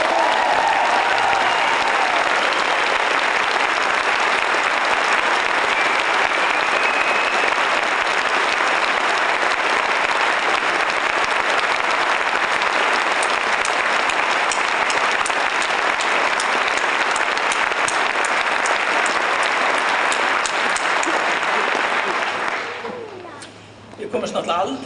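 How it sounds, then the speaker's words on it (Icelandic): A large audience applauds loudly and steadily after a speech about Iceland's national broadcaster RÚV. The dense clapping runs for over twenty seconds, then cuts off abruptly near the end. "við ætlum að klappa svona mikið"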